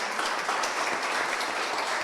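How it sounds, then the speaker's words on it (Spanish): Sustained audience applause at a university book launch on obesity and malnutrition, a dense, steady wash of many hands clapping filling the room without pause. "Un aplauso para ella"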